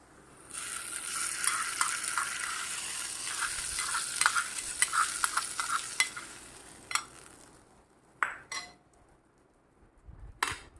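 Ingredients for a tomato chutney tempering fry in hot oil with a loud, close sizzle for about six seconds, while a spoon stirs and scrapes the pan. A few sharp metallic clinks and taps follow as the sizzle dies down.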